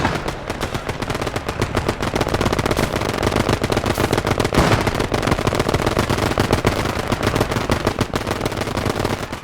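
A machine gun fires a long, continuous rapid burst in a war video game battle, loud and dense with steady crackling shots and no talk.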